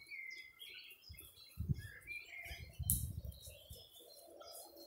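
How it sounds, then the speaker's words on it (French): Birds chirping and twittering all around on a farm, bright scattered calls near and far with occasional soft low rustles and thumps. "c'est le paradis des oiseaux. Hein. Ça piaille de partout."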